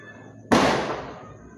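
A single loud firecracker bang goes off nearby, a sharp burst that rings out and fades over about a second.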